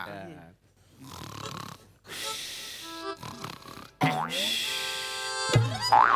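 Snoring from a performer on stage in a Marathi television comedy sketch show, coming in bursts of rough, throaty snorts among voices and stage noise.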